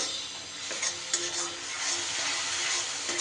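Ground turmeric, chili, coriander and cumin powders stirred and sautéing in a pan with tomato, giving a soft steady sizzle with scraping stir strokes throughout.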